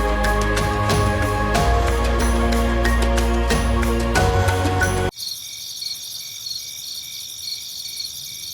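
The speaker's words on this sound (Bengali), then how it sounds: "শুধু টানা ঝিঝি পোকার ডাক।" Crickets chirp continuously at night in the Serengeti, a sustained shrill pulsing drone; the first part is masked by a loud, dense layer of overlapping noise that cuts out abruptly, leaving the insect trill clear and steady.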